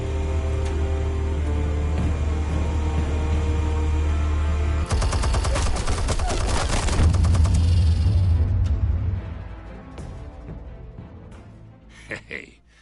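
Explosives set off in Batman Telltale: a dense burst of rapid crackling blasts rises sharply over a steady low engine-like drone, sustains for a few seconds, then dies away into quieter scattered noise.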